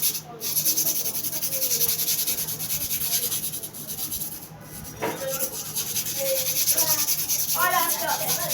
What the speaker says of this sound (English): Can you see the way I'm scrubbing it on the surface of the inner part of the super hard manual sharpening stone?